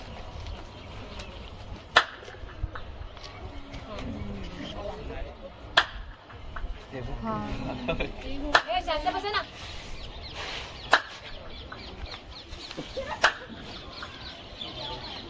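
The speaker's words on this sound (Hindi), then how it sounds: "मैं एक ताली बजाऊंगा, आपको सिटी में 3 आवाज मिलेंगे।" Several sharp, isolated hand claps ring out at Golconda Fort, spaced a few seconds apart, over ongoing talk and outdoor background noise.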